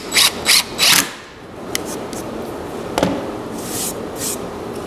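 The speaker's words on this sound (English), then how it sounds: "I'm just countersinking these holes and then putting these torque screws in." A drill countersinks holes in cedar and drives torque screws, with three short whirring bursts at the start, then quieter scraping and a couple of sharp clicks over a low background hiss.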